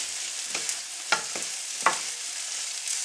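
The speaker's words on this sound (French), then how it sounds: "Ça fait à peu près 2 minutes que nos petits légumes rissolent dans le wok." Rice and vegetables stir-frying in a hot oiled wok over high heat, a continuous bright sizzle with a few sharp scraping stirs of the utensil breaking up the rice.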